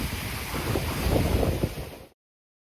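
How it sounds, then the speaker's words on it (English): Waterfall in Yellowstone National Park giving a steady broadband rushing roar, fairly close, that stops abruptly after about two seconds. "And this waterfall is another new one."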